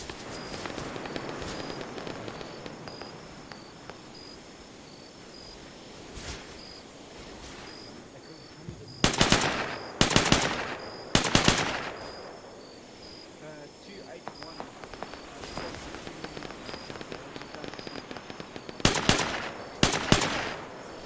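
Arma 3 military simulation firefight, with several loud, close bursts of automatic rifle fire breaking through steady ambient insect chirping and low battlefield noise, the bursts clustered mid-way and again near the end.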